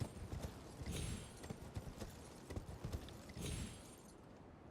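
Torrent, the spectral horse in an Elden Ring–style fantasy video game, trots with soft, steady hoof clip-clops at a moderate distance, irregular beats layered over a light ambient bed, with no talking.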